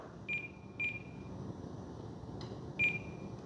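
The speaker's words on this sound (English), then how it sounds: "Smart ESC, low voltage alarm." The low-voltage alarm on an E-flite Smart ESC in a Turbo Timber Evolution UMX plane gives three short, clear, high-pitched beeps at uneven intervals over a low background hum.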